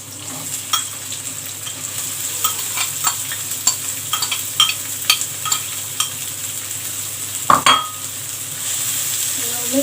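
Onion and garlic frying in a pan, stirred with a utensil: a steady close sizzle with scraping strokes and occasional clinks of metal on the pan, no voices.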